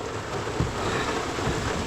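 Heavy rain pours in a forest, a dense, steady hiss of drops hitting leaves and ground, loud and close, with no voices.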